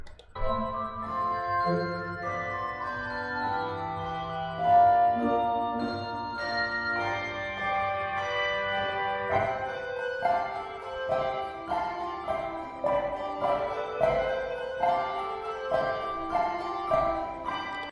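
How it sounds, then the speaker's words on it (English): A handbell ensemble plays a ringing melody, overlapping chimes sustaining and decaying, low bells entering partway through, with no voices. "Here are the melodies in the bass bells."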